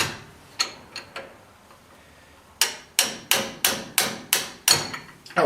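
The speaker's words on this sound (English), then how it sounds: "try and hammer this off" Hammer blows knocking a ball joint loose on a Ford E-350 van: a few lighter taps, then a steady run of about eight hard, ringing metallic strikes close by, each decaying quickly.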